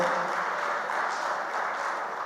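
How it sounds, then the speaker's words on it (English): Audience applause at a conference gathering, a dense, steady wash of many hands clapping for the whole stretch, fairly loud and even. "I think we should clap for team Provet"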